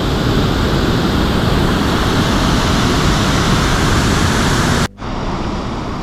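A small waterfall in the rain in the Yorkshire Dales gives a loud, steady, broadband rushing roar, close by. The roar breaks off briefly near the end, then resumes slightly softer.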